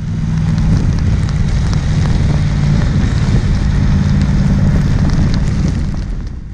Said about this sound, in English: I'll be quiet for a moment and so you can hear the rain on the camera.